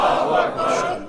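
A crowd at a Muharram majlis shouts the Takbeer slogan in unison, one loud, sustained massed cry lasting about a second with a slight swell midway.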